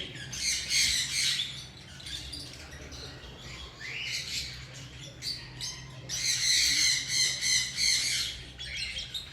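A black-headed parrot in a breeder's setup at a pet market squawks in repeated harsh, loud bursts, with brief chirps between them and no talk over it.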